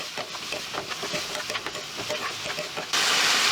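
Cauliflower poriyal frying on a tawa pan with freshly ground masala mixed in: a steady close sizzle broken by repeated stirring scrapes, with the hiss swelling louder and brighter near the end.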